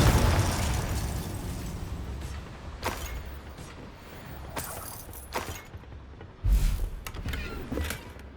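Confringo fire spell explosions in the video game Hogwarts Legacy on PlayStation 5, a dense rumbling combat mix with several sharp bursts and booms, the loudest blast near the end.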